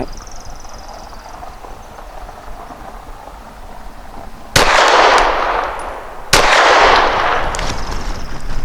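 A custom Glock 34 pistol fires at a target. Two loud, sharp shots come about two seconds apart, each with a long, ringing tail, after a quiet stretch with no talk.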